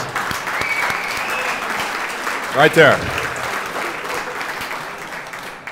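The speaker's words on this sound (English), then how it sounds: "Let's have a round of applause." A crowd claps in sustained, dense applause at a university sports hall of fame ceremony, with a brief spoken remark cutting through midway.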